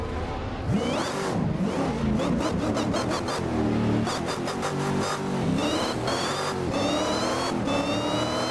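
Car engine in the racing game Assetto Corsa revving hard through short gears, the pitch rising and dropping again and again with quick shifts, loud and continuous with no talking.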